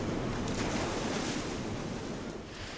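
Large waves crash and roll onto a beach in steady, broadband surf roar, with wind buffeting the microphone throughout and the wash slightly easing toward the end during a lifeguard boat rescue near a tower.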